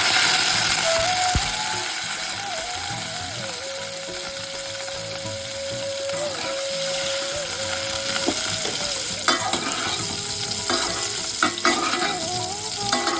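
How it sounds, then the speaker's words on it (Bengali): Cauliflower frying in hot mustard oil crackles in a loud, continuous sizzle with stirring scrapes and occasional clanks, while a thin background tone runs underneath. "তেলটা গরম হয়ে গেছে এবার আমি ফুলকপিটাকে ঢেলে নিলাম"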